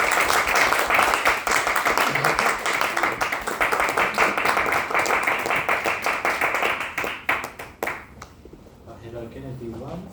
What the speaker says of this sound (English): Please give a warm applause to Toastmaster Zaki Zakaria.